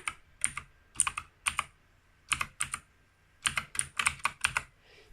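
Typing on a Cobra backlit computer keyboard: bursts of crisp, close key clicks come in rapid clusters separated by short pauses, loud and alone with no voices.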